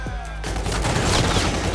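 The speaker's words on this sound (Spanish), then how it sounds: "Al parecer el arma siempre va a matar de 4 disparos, o sea, 2 ráfagas." Rapid automatic gunfire bursts from a Call of Duty match, loud and dense after a brief quieter lead-in, with the shots rattling continuously to the end.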